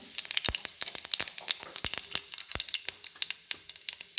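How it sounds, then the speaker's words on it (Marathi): Mustard seeds and cumin spluttering in hot oil in a kadai: sharp, irregular pops and crackles burst one after another over a quiet background, close to the listener. "मोहरी तडतडली की त्यात जिरे घालून घेते आता"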